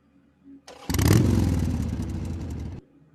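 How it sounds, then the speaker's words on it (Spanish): A motorcycle engine starts up and revs hard, swelling into a loud, steady roar close by for about two seconds before cutting off abruptly. "La moto. Una moto."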